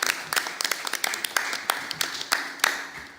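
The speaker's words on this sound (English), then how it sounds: "please an applause for the panelists." Applause from the audience at a panel discussion on clean energy in Ibero-America: sharp individual hand claps over a steady wash of clapping, lasting about three seconds, moderately loud.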